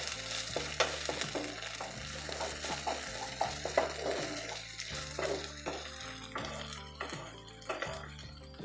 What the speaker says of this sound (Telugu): ఉల్లిపాయలను ఈ విధంగా వేయించుకున్న తర్వాత మనం దీనిలో అల్లం వెల్లుల్లి పేస్ట్ వేసి పచ్చివాసన పోయే వరకు